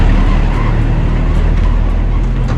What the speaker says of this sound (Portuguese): E deixa o carro passar.